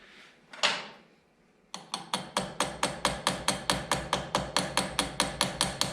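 A keyed shaft key is tapped into a Smithy CB-1220XL lathe carriage with a wrench, producing a long run of even, sharp metallic taps at close range after an initial knock and scrape.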